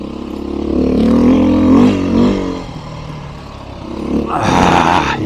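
Beta 500 RRS dirt bike ridden along root-covered forest trails in Colorado, its engine droning loudly and steadily, rising into a sharper rev near the end.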